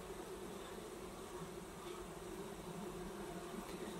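Honey bees buzz around apple blossoms in a flowering orchard, a dense continuous drone of many insects at moderate volume with no voices.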